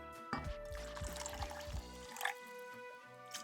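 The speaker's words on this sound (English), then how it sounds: "Pour more water in." Water is poured into a pot of Texas-style chili without beans, a soft splashing and trickling pour with a few drips, fairly quiet and heard close up with no talking.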